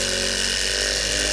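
Power buffer running steadily at a constant high whine, loud and close, cutting cured clear coat over carbon fiber on Bimota parts, with no voices.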